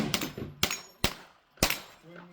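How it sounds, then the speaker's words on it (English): A Weatherby rifle with a 24-inch barrel fires factory ammunition for a group: four sharp, loud cracks with uneven gaps, each decaying quickly into a quiet outdoor background. "he's going to shoot a group with the factory ammo"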